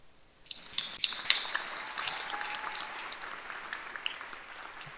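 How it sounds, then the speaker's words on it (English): Applause from the audience at a 2017 UTMB School of Medicine degree-conferring ceremony starts with a few sharp claps, then swells into sustained, moderately distant clapping from a large crowd. "let's have another round of applause, please, for the doctors"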